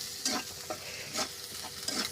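Spice paste with salt fries in a pan, making a quiet sizzle broken by three soft scraping stirs of a spoon.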